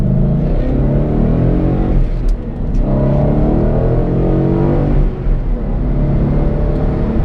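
A 2012 Ford Mustang GT with the 5.0 V8 pulls hard through the gears, its loud, close engine note climbing in steady rising sweeps, briefly dipping at each of two shifts before building again.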